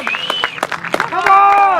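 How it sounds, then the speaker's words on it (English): Spectators at a British grasstrack championship clap in scattered bursts while a public-address announcer talks loudly over the applause, with a tonal sound swelling near the end. "Round of applause, ladies and gentlemen."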